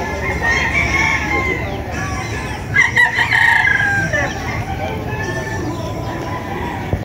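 Roosters and young stags crow and cluck together at a poultry farm, several birds overlapping in a dense, continuous chorus, some near and loud, others farther off.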